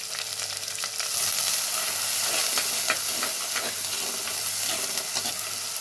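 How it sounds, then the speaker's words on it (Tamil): Onion, green chillies and garlic sautéing in a pan for a village-style anchovy fish curry, with a steady close sizzle and hiss and occasional stirring scrapes and clatter. "ஒரு பெரிய வெங்காயம் கூட 2 பச்சை மிளகாய் எல்லாத்தையும் நல்லா வதக்கி எடுத்துக்கலாம்"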